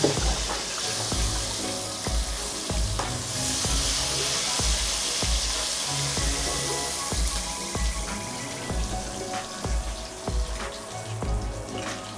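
Water is poured into a pan of simmering katla fish curry, giving continuous splashing and a sizzling bubble with a steady pulse, close and moderately loud.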